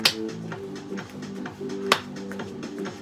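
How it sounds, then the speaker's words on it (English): Sharp single hand claps ring out during a gentle walking workout, two prominent bright cracks standing above soft background music with a steady beat. "Can we add a clap?"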